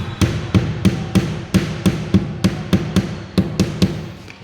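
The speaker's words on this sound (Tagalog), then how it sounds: "Rubber mallet, no?" Rubber mallet tapping on a modular cabinet, about fifteen evenly spaced dull thuds in a steady rhythm, close and clear.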